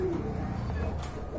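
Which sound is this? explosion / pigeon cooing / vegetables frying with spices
pigeon cooing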